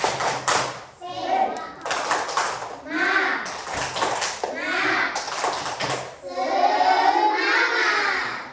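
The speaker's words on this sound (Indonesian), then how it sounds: "tepuk semangat" Schoolchildren in a classroom do a rhythmic spirit clap, bursts of clapping and chanting voices in a short patterned sequence, with a teacher's voice leading and then continuing.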